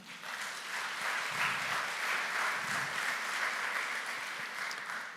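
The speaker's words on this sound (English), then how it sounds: "I'd really like to use this opportunity to ask you to give a round of applause to Kingston Freeport" A business conference audience in Jamaica breaks into sustained applause, a dense, even wash of clapping that holds steady for several seconds before easing slightly.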